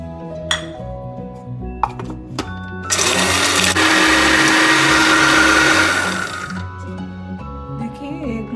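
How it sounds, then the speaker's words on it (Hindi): An electric spice grinder whirs loudly for about three seconds as it grinds a piece of cinnamon, white cumin and cloves. Tonal background music plays before and after the burst. "सबसे पहले तो इसको ग्राइंड करते हैं।"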